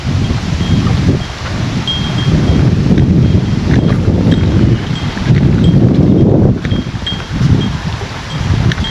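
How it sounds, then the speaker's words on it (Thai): Cool wind blows steadily and loudly across a microphone beside a river in rural Laos where boat races are held, a continuous low rumbling buffet with gusts swelling and easing throughout, with no voices. "บรรยากาศตอนนี้ล่าสุดเลยลมเย็นเย็น สุดยอดเลยครับ"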